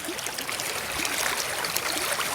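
A stream holding salmon and trout flows steadily on the East Coast, a close, continuous wash of rushing and trickling water with no voices.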